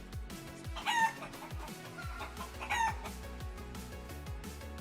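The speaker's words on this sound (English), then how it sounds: "Make all the chicken sounds you want." Chickens cluck steadily in a rhythmic, repeating pattern, with two louder crowing bursts rising above the clucks, close and clear, with no voices.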